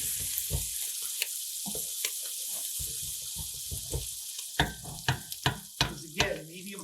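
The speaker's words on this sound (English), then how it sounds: "You can hear it sizzling." Steady broadband sizzling from marinara sauce in a pan over medium-high heat, with occasional utensil clicks and scrapes, several sharper knocks near the end.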